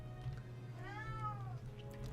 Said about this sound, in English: And Kitty Cat, you gotta stop meowing back there.